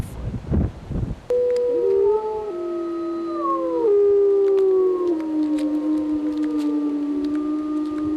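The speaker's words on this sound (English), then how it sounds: "At night, I hear the dogs barking" Dogs at night, a few barks up front followed by long, drawn-out overlapping howls from several animals that glide and fall in pitch, loud and sustained.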